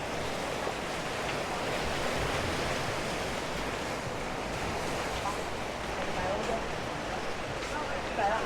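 Surf rolls onto a busy beach in Hua Hin, Thailand, a steady broad roar of waves mixed with wind buffeting the microphone, continuous throughout.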